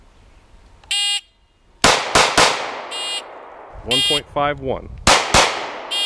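Gunshots fired in quick three-shot groups against a timer on a shooting range, loud sharp cracks in clusters between electronic timer beeps, with a voice calling out times.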